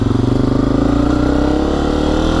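A Honda CRF250f dirt bike engine revs up close, a loud pulsing buzz whose throb rises and holds steady, with no voices.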